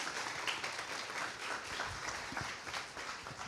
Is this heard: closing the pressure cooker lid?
no